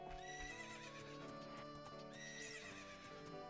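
Horses in the Zelda: Ocarina of Time video game whinny and neigh over a steady music bed, with faint hoof clip-clops mixed in, continuous and fairly loud throughout.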